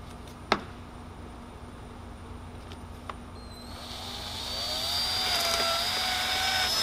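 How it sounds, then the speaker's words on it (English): A power drill whines up and keeps running, drilling rivet holes in a carbon fiber part on a Nissan R32 GTR, steady and fairly close, after a couple of sharp clicks and clanks. "Now we're gonna drill our holes and get the rivets in so it stays on."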